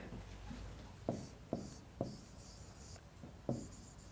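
Pen writing a sentence by hand on paper in a lesson, with soft scratchy strokes and a few sharper taps at irregular intervals, faint over steady background noise and no talking.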